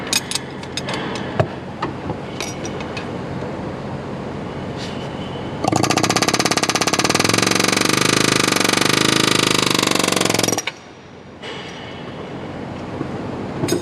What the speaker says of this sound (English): I'm gonna get my air hammer.